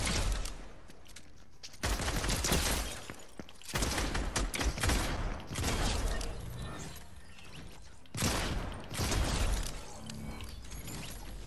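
Rapid pistol fire in the video game Fortnite Zero Build comes in repeated dense bursts with short gaps, loud and harsh throughout with mechanical clatter.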